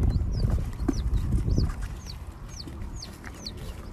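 Chickens in a backyard hen house shared with ducks and turkeys, with low clucking and rustling up close and a repeated high bird chirp at regular intervals.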